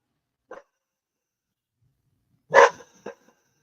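Dogs bark indoors in a house: one short bark, then after a pause a loud close bark followed by a quicker, softer one.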